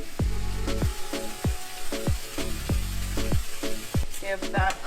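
Shrimp stuffing for sweet plantains sizzles loudly in a pan over high heat, a steady frying hiss broken by repeated sharp clanks and scrapes as the pan is tossed and stirred.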